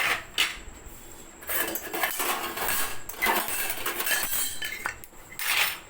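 Tiffin dishes being washed clink and clatter close by in a steady run of metallic knocks and rattles, with no voices.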